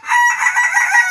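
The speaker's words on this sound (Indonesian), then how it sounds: "Berkokok, berkokok." A rooster crows once, loud and close, a single bright drawn-out call lasting about a second with no other sounds.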